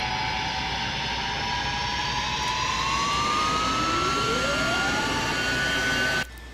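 Jet engines of an Ilyushin IL-62 airliner in a flight simulator game spool up steadily, a loud continuous roar with whining tones rising in pitch, cutting off abruptly near the end.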